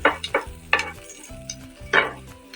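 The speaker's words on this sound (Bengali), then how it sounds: "এবার আস্তে আস্তে এটাকে নেড়ে নিলাম আমি একটু একটু তেলে ফ্রাই করে নেব" Spices fried in a little oil are stirred in a pan, giving several distinct scraping strokes of a spatula over a low sizzle, close and alone.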